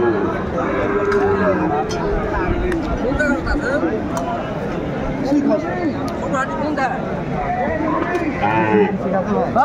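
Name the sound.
Sahiwal bull mooing at cattle market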